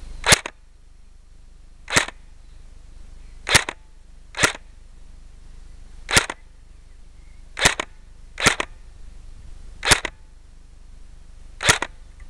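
Nine sharp gunshots ring out at a shooting range, fired at targets at irregular intervals over twelve seconds, each a crisp crack with a short tail, close and clear without talking.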